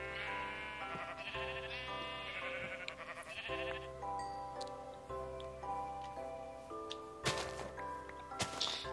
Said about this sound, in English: There's a lot of sheep in this swamp.